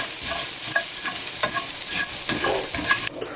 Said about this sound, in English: And then just move your garlic around.